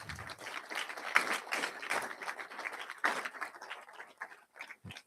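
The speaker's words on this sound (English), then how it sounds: "Can I get a round of applause for Caden?" Audience at a February 2026 ISM meeting clapping in applause, a fairly faint, uneven patter of many hands that thins out toward the end.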